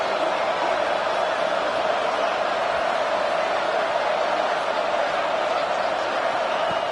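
Steady roar of a football stadium crowd during a Washington game as the defense faces a red zone stand, a dense continuous wash of massed voices with no break, loud and constant throughout.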